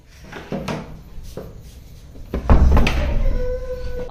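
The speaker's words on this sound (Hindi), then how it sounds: "दरवाजा बंद कर दे।" A wooden door banged shut indoors, with a few knocks and clatters before one loud close thud and a short rumble after.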